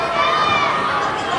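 A wrestling crowd at a Red Stick Wrestling show cheers in a loud, continuous roar that fills the hall and holds steady throughout.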